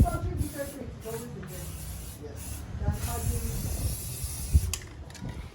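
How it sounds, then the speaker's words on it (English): Clear coat is sprayed from a can onto a rusty brake caliper being refurbished from a 2004 Toyota Matrix, heard as short hissing bursts in a close, uneven rhythm with brief pauses between them. "Here is some clear coat application to make the work all good and maintain the paint."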